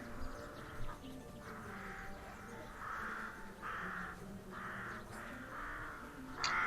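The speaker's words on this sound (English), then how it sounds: "there's a lot of crows" Crows cawing in a digging video game, a steady series of about eight harsh, evenly spaced caws, moderately loud over a low ambient game background.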